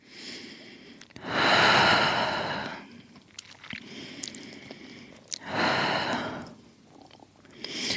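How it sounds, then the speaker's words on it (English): Deep, slow breaths taken in yoga child's pose, two long airy exhalations standing out clearly over a quiet room, with soft rustles in between. "Taking some deep breaths."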